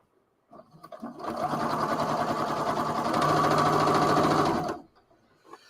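A sewing machine runs a burst of decorative stitching on fabric, a steady mechanical whir lasting about four seconds between quiet pauses.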